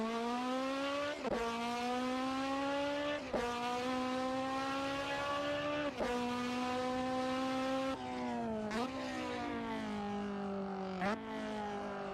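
A car engine drones at steady revs that climb slowly, broken every few seconds by quick rev-matching blips as it shifts gears. The engine sound is loud and continuous throughout.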